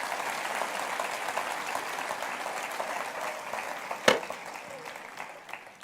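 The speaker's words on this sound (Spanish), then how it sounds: "denle un aplauso" An audience at a church gathering claps in a steady, moderately distant wash of applause, with one sharp knock or thump near the end.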